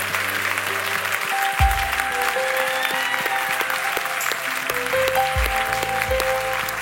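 A church congregation applauds Jesus during a French-language worship service, with steady, dense clapping and a low sustained organ or keyboard chord running underneath throughout.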